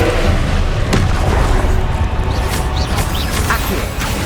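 Confringo blasting spell explosions in the Hogwarts Legacy video game, a dense run of loud booms and bursts over a constant roar of combat effects, with several sharp impacts spread across the span.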